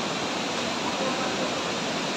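Taytay Falls waterfall in Majayjay, Laguna, a steady broadband rush of falling water, even and continuous, heard from close by at moderate level.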